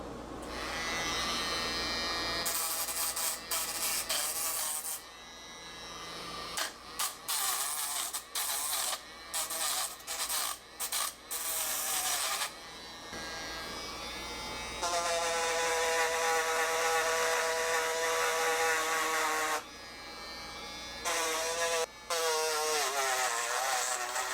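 A battery-powered electric fabric shaver bought at Walmart runs over fabric, giving a steady close buzzing whine that starts, cuts out and restarts in several bursts, with a longer sustained run near the end; no talk during the buzzing.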